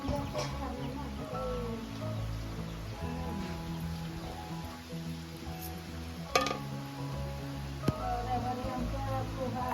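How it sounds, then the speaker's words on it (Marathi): Several chickens cluck and squawk in a busy commotion in a Konkan village during the monsoon, with soft rain pattering in the background and a voice now and then. "कोंबड्यांची धांदल जायली"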